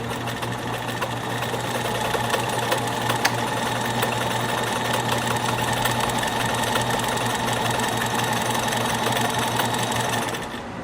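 A Kenmore 84 sewing machine runs steadily and close by, its rapid, even stitching hum and mechanical clatter continuing unbroken for about eleven seconds with no voices.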